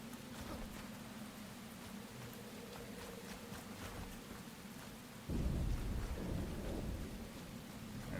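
Thunderstorm with heavy rain in the video game Enshrouded: a steady rain hiss with low rumbling thunder, swelling into a louder, deeper roll partway through, with no voices.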